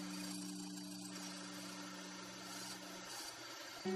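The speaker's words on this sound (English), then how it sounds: "I used the bandsaw to turn the hole into a slot" A bandsaw cuts a slot into timber for a pixel stand, giving a steady, moderately loud motor hum with blade rasp that holds throughout, broken by a short thump near the end.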